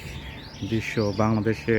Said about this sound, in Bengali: আপনারা নিশ্চয়ই পাখির ডাক শুনতে পাচ্ছেন